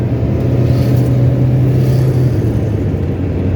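Car engine running steadily in a higher gear after an upshift from fourth to fifth, a constant loud interior drone with low rumble and no talk, the pitch holding nearly level throughout.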